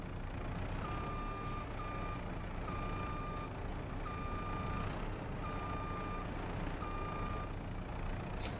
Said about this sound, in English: let's get this unruly trailer backed in here